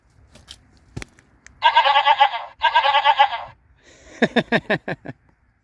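A goat-sound novelty horn fitted to a DIY camper van gives two loud, sustained bleating blasts, then a quick run of shorter bleats after a brief pause, fairly close and with no talk over it.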